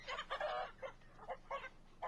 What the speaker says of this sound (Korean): 주인에게 대드는 용감무쌍한 우리의 수탉